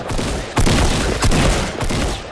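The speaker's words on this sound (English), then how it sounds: "Oh, I got shot." Gunfire in Fortnite during a squad match, loud close shots striking the player, about three heavy blasts in quick succession over a constant dense game roar.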